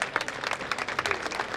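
Scattered, fairly soft clapping from an audience at a primary school annual function, individual claps distinct and uneven in rhythm.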